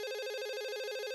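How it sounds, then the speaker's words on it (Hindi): A telephone rings in a steady electronic tone with a fast warbling pulse, loud and continuous for about a second with no voices over it. "मैं फोन लेती हूँ।"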